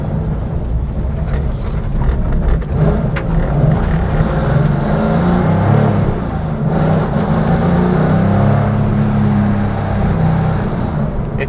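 A Porsche 993 Gemballa Turbo engine drones loudly and continuously from inside the car while driving, swelling and easing with the throttle in a raw, sustained roar.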